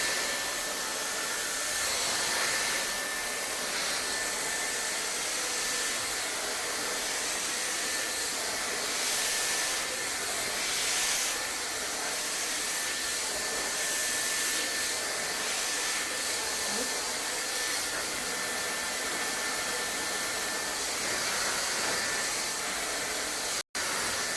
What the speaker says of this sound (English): And that's how you blow dry with a powder brush.